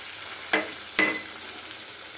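Green chilies dropped into hot oil alongside frying dried fish give two sharp sizzling bursts about half a second apart, then settle into a steady, close crackle, with no voices.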